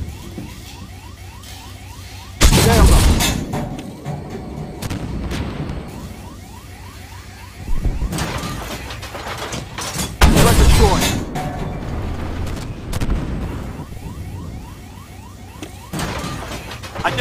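Tank cannon fire and explosions in Armored Warfare from a C1 Ariete, with two heavy booming blasts followed by sustained rumbling, crackling battle noise and synthetic radio voice callouts.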